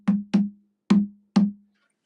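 Four deep, resonant hand strikes on a boogaraboo, a West African drum with a tone between a djembe and a conga, each a short booming thump with quick decay, played close in an uneven rhythm.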